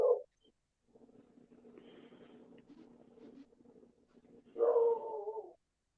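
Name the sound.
puppies barking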